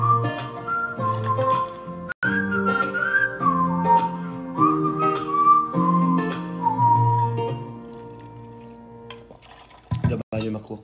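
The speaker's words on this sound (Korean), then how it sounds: "이 휘파람은 내가 안 불렀어" A bright whistled melody wavers and glides through a pop song played during a livestream, running steadily over the backing music for most of the stretch before fading near the end.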